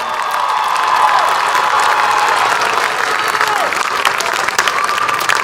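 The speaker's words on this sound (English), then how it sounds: "Let's give them a big round of applause one more time, please." A big round of applause for honor graduates at a Spring High School graduation ceremony: loud, sustained crowd clapping with some cheering, filling the hall evenly throughout.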